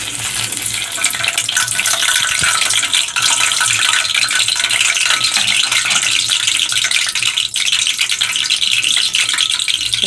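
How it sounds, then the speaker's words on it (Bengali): Cinnamon, cardamom and bay leaves hit hot oil in a pot on the stove, setting off a loud, close, steady crackling sizzle that fills the whole stretch. "এখন আমি দারচিনি, এলাচ, তেজপাতা দিয়ে দিচ্ছি।"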